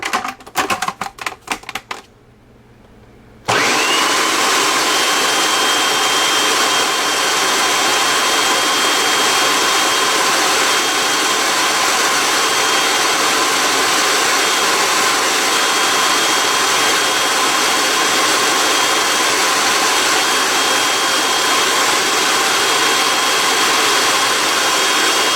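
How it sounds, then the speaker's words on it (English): Food processor pureeing a poulet au pistou mixture, with a few seconds of short pulsing bursts followed by a loud, steady, continuous whirring run that lasts to the end, with no talking. "we're going to puree it some more"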